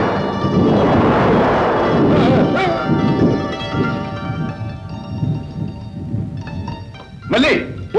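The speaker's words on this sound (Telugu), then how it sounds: "మెరుపు మెరిసింది, ఉరుము ఉరిమింది, వాన కురిసింది" Deep thunder rumbles through a stormy night scene in an old Telugu film, a heavy broadband roar building and fading over several seconds, with a music score and tonal tones layered on top and a sharp crack near the end.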